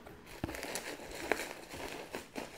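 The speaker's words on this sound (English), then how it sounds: "Put a little bit of some shredded paper just around the top." Shredded paper crinkles and rustles in a few soft, close bursts as it is tucked around the top of a box being packed, quiet overall with no talk.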